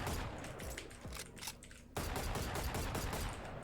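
Rapid bursts of gunfire from a rifle in a tactical shooter game, crisp repeated shots in quick volleys, loud and close with a brief pause before another sustained burst.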